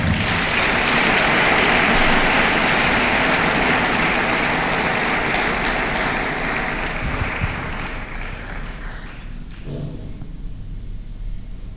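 A church congregation applauds together in a sustained, dense wash of clapping that fills the space, then thins and fades out near the end.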